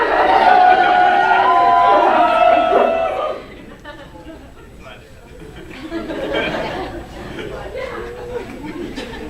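Wedding reception guests cheering and chattering loudly as a group, then the crowd noise drops to a quieter murmur before swelling again.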